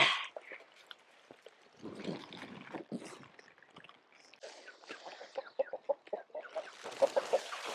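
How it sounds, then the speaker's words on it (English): Chickens cluck and chatter nearby in short, irregular bursts, with some rustling and water-like sounds in the background. "Oh, the chickens are going to love this lot."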